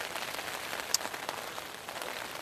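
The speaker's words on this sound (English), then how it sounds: "as you can hear, it's raining and it's getting harder" Rain patters steadily on a surface during a July trike tour from London to Hastings, a soft, continuous hiss of drops with scattered sharper ticks and one distinct splash.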